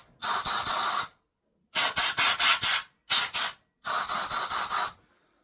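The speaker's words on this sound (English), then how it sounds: "there's brake cleaner still in there, so we'll just blow that all out" Compressed air blasts leftover brake cleaner out of a Bernard W0 pump during restoration: four loud, close hissing bursts, each about a second long, separated by brief silences.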